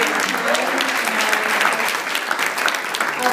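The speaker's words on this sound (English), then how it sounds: "one more round of applause, please, for our candidates." An audience at a Dunwoody Young Parents political forum applauds the candidates, dense steady clapping from a room full of people that stays even throughout.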